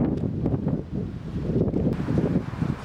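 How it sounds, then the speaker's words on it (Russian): Outdoor wind buffets the microphone in continuous rough, low gusts that rumble loudly for a few seconds, with no talking. "Ветер."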